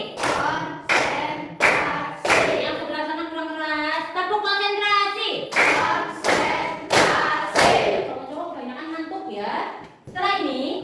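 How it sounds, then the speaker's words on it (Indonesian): A classroom of children plays a rhythmic concentration clapping game, with sharp group claps in quick bursts alternating with chanted call-and-response voices, close and loud. "Tepuk konsentrasi"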